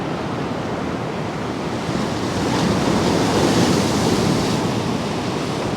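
Big sea waves surge and crash along the Paphos seafront in Cyprus on a windy day, a continuous, close roar of surf mixed with wind buffeting that swells louder midway.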